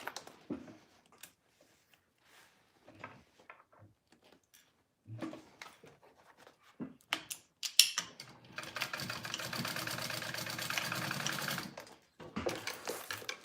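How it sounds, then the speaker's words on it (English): A sewing machine stitches a dart on fabric for a wristlet, running in one steady, fairly loud stretch of several seconds after scattered quiet handling sounds. "you're gonna sew along your dart at a 1/4 inch seam allowance"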